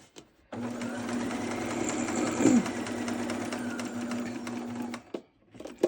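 Sewing machine stitching and back stitching a seam on a baby boy's burial outfit, one continuous close whirring run of about four seconds that starts and stops abruptly.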